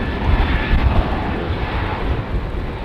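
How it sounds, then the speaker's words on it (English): An airplane departing from runway 09 roars steadily, a loud broad engine rumble with some wind buffeting, unbroken by voices. "It's all about the engine noise."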